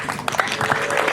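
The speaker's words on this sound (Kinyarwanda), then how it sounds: "amashyi menshi" Dense, steady applause from a crowd at a wedding of a blind bride and groom, many hands clapping at once and filling the whole short moment without a break.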